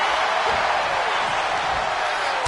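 A video-game wrestling crowd roars in a steady, dense wash of cheering that fills the whole stretch without a break, loud and evenly sustained.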